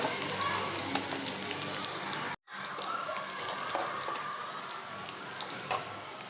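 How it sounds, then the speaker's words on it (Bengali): Radish greens frying with onion, garlic and green chilli in a pan, a steady rain-like sizzle with a brief dropout partway through, no voices. "তার পেঁয়াজ রসুন কাঁচা মরিচ এটা দিয়ে রান্না করুন মূলা শাকটা"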